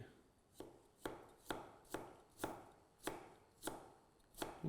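A knife chops ginger finely on a board in about ten evenly spaced, crisp strikes, close and quiet, with no talking.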